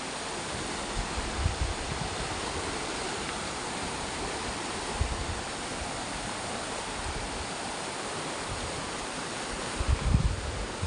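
Flash flood water rushing in Bojonegoro, a continuous broad roar of fast-flowing water with occasional low rumbling surges, no voices.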